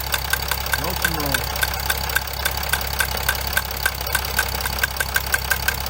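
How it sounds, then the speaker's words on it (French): Chrysler 300C engine idling with a steady ticking knock, running close by, a short voice interjection early on, as injector work is under way. "On accélère un peu, Stan."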